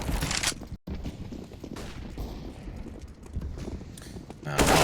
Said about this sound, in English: Pistols go brr, so does the MP9, but not for long